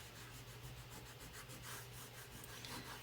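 Close, quiet rubbing strokes as paint is worked off a pumpkin to weather it, a repeated soft scratchy friction in a steady back-and-forth rhythm over a low background hum, no talking.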